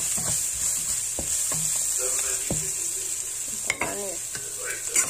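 Spaghetti with mushrooms stir-fried in a pan, with steady sizzling and frying broken by repeated scrapes and clacks of a utensil turning the food, fairly close, while a voice speaks briefly.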